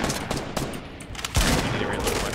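Hunting rifle shots in the video game Fortnite, a few loud close cracks with one heavy blast near the middle, surrounded by busy game noise.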